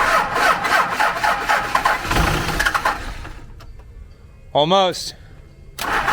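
A Cummins diesel engine swapped into a Ford cranks with a rhythmic chugging that fades out without catching, followed by a short rising whine and a burst of noise, while people talk over it.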